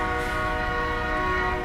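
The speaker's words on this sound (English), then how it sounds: "Dude, that train signaling is so cool." A sustained, loud chord of a train horn sounds steadily throughout, a locomotive signaling in the American Truck Simulator video game, heard alone without talk.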